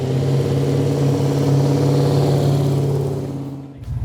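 A supercharged 1963 Ford Cortina street-legal hot rod dragster with an aluminium 215 engine runs steadily at a loud, droning idle with a whirring supercharger tone, then the note drops away abruptly near the end.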